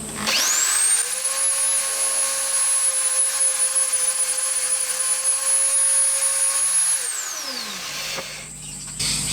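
A drill bit on a Bridgeport-style milling machine spins up to a loud, steady high-pitched whine and holds it for several seconds. The motor then winds down, its pitch sliding lower before it stops.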